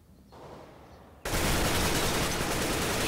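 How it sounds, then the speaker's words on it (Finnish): Gunfire in Counter-Strike: Global Offensive, shot through smoke, bursts in as a loud continuous automatic volley after a quieter stretch of game ambience. "Ammun sinut savun läpi."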